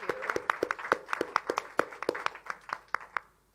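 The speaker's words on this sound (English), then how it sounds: "let me congratulate you and thank you, and another round of applause." A small audience claps at a public forum on online scams, a sparse run of distinct, fairly close handclaps at an uneven rhythm that thins out and stops, no voice over it.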